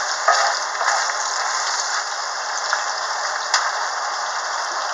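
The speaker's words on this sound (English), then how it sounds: "I'm just spin browning this" One pound of ground beef sizzles steadily in a hot pan as it browns, a soft continuous crackle with occasional light scrapes of stirring, close and alone.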